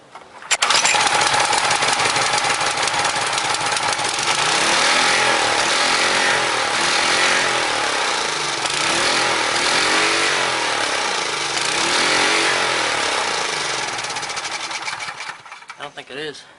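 A Briggs & Stratton Quantum small engine, blown up and being rebuilt, runs on choke with a loud, continuous buzzing drone whose pitch surges and sags in repeated waves, close up, with people talking over it.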